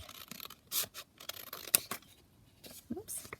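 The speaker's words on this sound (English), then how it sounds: "So I think we'll cut it up here. So let's just cut it" Scissors snip through paper for a journal folio in several short, close, crisp cuts spaced irregularly, with quiet rustling between them.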